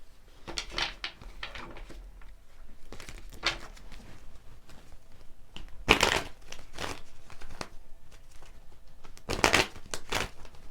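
Angel answers tarot cards being shuffled by hand in irregular bursts of riffling and flicking, close and moderately loud, with quieter rustling between the bursts and no talk.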